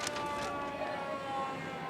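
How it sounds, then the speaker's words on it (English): A faint, distant fire truck siren wails steadily beneath low background noise at a Christmas parade, with no voices. "now I hear some fire sirens"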